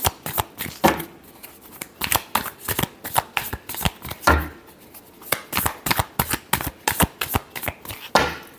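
A deck of tarot cards is shuffled up close, with rapid riffling and flicking bursts repeating steadily and fairly loudly, with no voices over them.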